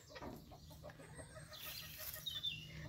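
A rooster and hen on a small farm, with soft scattered clucks and low chatter close by, quiet and irregular against faint background noise.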